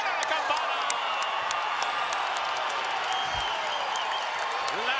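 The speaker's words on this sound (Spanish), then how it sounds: "La gente aplaude la entrega." A live crowd at an MMA bout in Fresno, Mexico vs USA, claps and cheers steadily in a large venue, with an excited commentator talking over the continuous applause.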